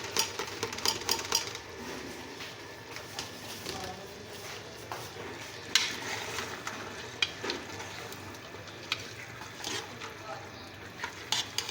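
Meat sizzles and fries in a pan while a spoon scrapes and stirs it, with clinks of utensil against metal coming in irregular bursts over a steady frying hiss.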